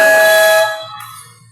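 A loud, blaring basketball shot clock buzzer sounds for under a second at a 24-second violation, then cuts off and leaves a low murmur of background noise.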